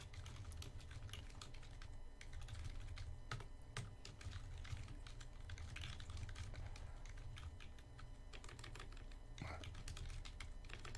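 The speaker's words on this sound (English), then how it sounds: "I cannot type and talk at the same time unless it's the exact same thing I'm typing and talking" Steady quick typing on a computer keyboard, close and fairly quiet, with dense irregular clicks running for about eleven seconds and no speech over them.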